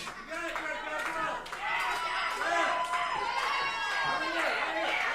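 A live wrestling crowd shouts and chatters during a blindfold match, overlapping voices rising and falling with scattered claps and yells.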